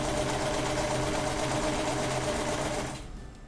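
Sewing machine stitching sock fabric for a men's sock, running steadily and loud in one continuous burst before cutting off near the end.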